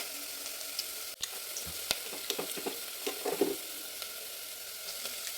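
Onion frying in a pan gives a steady, close sizzle with scattered pops and a few stirring scrapes and knocks, without any talking.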